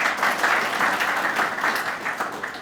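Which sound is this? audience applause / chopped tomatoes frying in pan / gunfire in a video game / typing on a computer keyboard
audience applause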